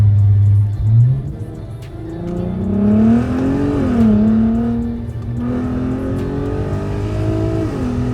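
A VW Golf R32 Mk5 engine revs loudly and close outdoors, echoing off nearby buildings, pitch climbing and falling in repeated surges, a deep throaty drone with no talking.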